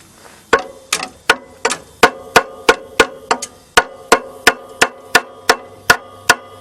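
Steady hammer blows strike metal while working on a tight belt during a cold start of an old car, about sixteen sharp ringing hits at an even rhythm, close and loud.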